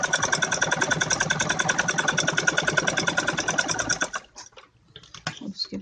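A sewing machine stitches fabric for a child's romper with a fast, even mechanical rattle for about four seconds, then stops, followed by a few faint handling clicks.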